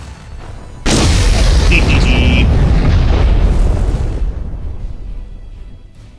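A ship blows apart in the space combat game Freespace, a sudden loud boom that bursts in at once and holds as a dense roar before slowly fading.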